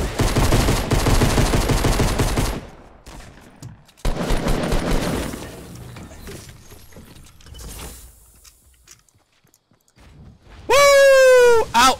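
Pistol fire in the video game Fortnite comes as rapid, dense bursts of shots, then a shorter volley after a brief pause, ending with a bright electronic chirping effect.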